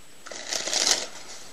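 A deck of playing cards handled and riffled up close, a short burst of crisp papery flutters lasting about a second, alone without talk.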